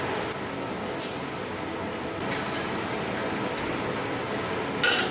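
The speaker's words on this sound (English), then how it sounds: "That you're using some WD-40 or some sort of lubricant, whatever you have." WD-40 lubricant sprayed from a can onto a dirt bike tire during a tubeless insert install, a steady close hiss lasting the full few seconds with a brief louder burst near the end.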